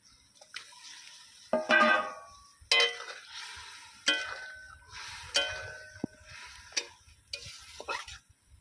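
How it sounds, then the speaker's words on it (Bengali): Fried pointed gourd (potol) tipped into spiced masala in a pan for doi potol and stirred, a quiet sizzle punctuated by repeated metallic scrapes and clinks of the spoon against the pan at a steady pace, close up. "এবারে আমি এর মধ্যে দিয়ে দেবো ভেজে রাখা পটল।"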